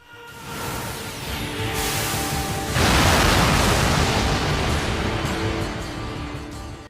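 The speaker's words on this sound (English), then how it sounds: "To create this explosion, Bakugou launches himself into the air and spins at a very high speed." An anime explosion from My Hero Academia, Bakugou's Howitzer Impact, roars as a loud, sustained blast that swells sharply partway through and then rumbles on densely before cutting off.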